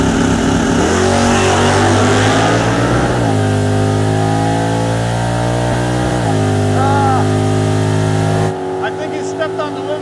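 The Roadkill Crusher Camaro's V8 roars loud and close during a wheelie run, winding up, briefly dropping at a shift and rising again before the sound suddenly falls away, with faint talk beneath.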